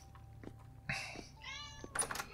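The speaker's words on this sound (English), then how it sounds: "Now the cat wants to go out because she's a pain." A cat meowing to be let out gives a few short meows spaced apart, faint and near, in an otherwise quiet room.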